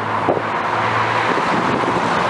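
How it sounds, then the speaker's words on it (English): Road traffic passes close by on a street near a former bungalow site, a steady loud rush of car noise with wind buffeting the microphone throughout. "Sorry about the traffic."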